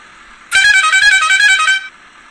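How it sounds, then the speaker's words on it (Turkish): A single loud, steady car horn honk lasting about a second and a half, bright and buzzy, against a quiet background. "Ben size şöyle kornasını da dinleteyim."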